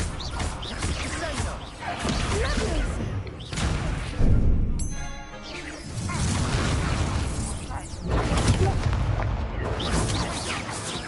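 Hogwarts Legacy combat brings a Confringo blasting spell going off amid a duel, with heavy booming thuds and mechanical crashes repeating over about eleven seconds, loud and dense with battle noise.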